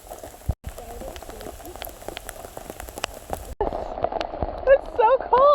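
Cold rain falls steadily on the Lower Ocoee River near Chattanooga, making a constant patter under the wider outdoor ambience. A voice speaks near the end.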